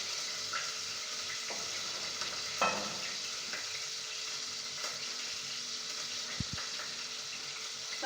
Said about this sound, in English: I'm going to cook my onions until they're golden brown